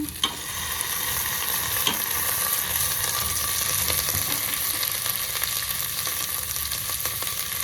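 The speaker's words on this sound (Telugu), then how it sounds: "సో ఫస్ట్ నేనైతే ఈ కూరగాయలన్నీ వేసేసుకుంటున్నాను." Chopped vegetables go into a hot pan for a quick weight-loss rice and dal dish, giving a loud, steady sizzle with faint stirring scrapes close by and no talking.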